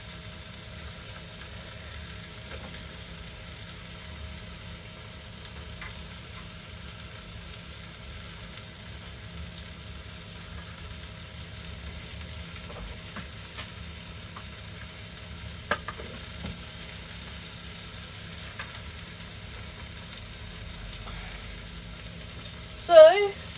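Garlic, onion and apple cooking with chicken in a pan, a quiet steady sizzle with occasional stirring scrapes, ending in a brief louder clatter.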